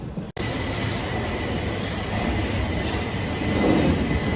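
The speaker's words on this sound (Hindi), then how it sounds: "ये ना जी ट्रेन आ गई है।" A train pulls into a station in Gdansk, Poland, a steady broadband rumble of wheels and carriages that swells slightly toward the end, heard alone without talk.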